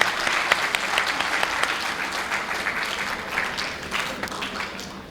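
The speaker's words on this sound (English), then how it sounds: "Let's give him another big round of applause for such a powerful and inspiring talk." An audience claps after a masterclass talk, steady sustained applause from a room of people that fades slightly toward the end, heard alone without speech.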